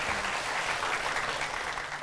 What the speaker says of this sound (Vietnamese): cho một tràng pháo tay kích lệ được không?